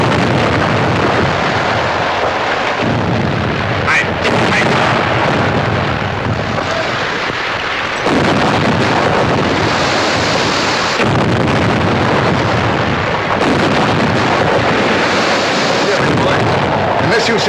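A ship's gun fires repeatedly at a submarine in a film, heavy booming blasts rolling out in bursts over a constant rumbling roar.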